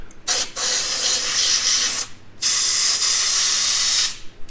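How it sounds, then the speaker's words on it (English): Compressed air blown around the lower intake of a Jeep Wrangler 3.6 Pentastar engine, two long, loud, steady hissing blasts close by, separated by a short pause. "something I do before I pull the lower is blow air"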